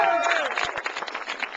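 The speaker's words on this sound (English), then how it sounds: "Give a great round of applause." An audience claps at a political gathering, a brief dense burst of applause mixed with crowd noise and a voice over it.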